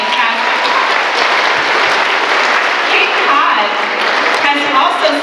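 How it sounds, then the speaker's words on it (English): Audience applause at an orchestra event rises as broad steady clapping, loud and even throughout, with some voices and chatter mixed into the crowd noise. "Give them a round of applause."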